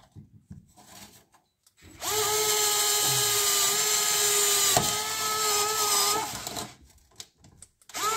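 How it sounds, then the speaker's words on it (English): Power drill boring a hole in the plastic of a homemade septic tank riser for a pop rivet, one steady whining run of about four seconds, close and loud, with quiet handling before and after. "Okay, I'm going to drill the hole."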